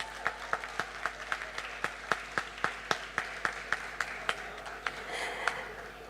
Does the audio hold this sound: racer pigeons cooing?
no